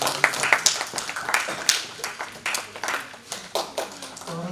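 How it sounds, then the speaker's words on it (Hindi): Children at a Khelo India workshop give a round of applause to welcome a visiting minister. The quick, uneven clapping is fairly faint and steady throughout, with a murmur of voices underneath. "जोरदार तालियां बच्चों।"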